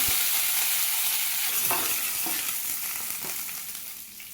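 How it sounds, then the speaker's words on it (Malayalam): Curry leaves sautéed with chopped tender jackfruit in a pan for Kerala-style idichakka thoran: a steady, close sizzle of hot oil with occasional stirring scrapes, gradually easing off. "കുറച്ച് കറിവേപ്പിലയും കൂടി ഇട്ടിട്ട് വീണ്ടും നല്ലപോലെ വഴറ്റിയെടുക്കാം."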